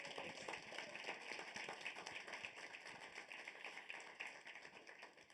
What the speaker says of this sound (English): Can you all give me a round of applause for our panelists?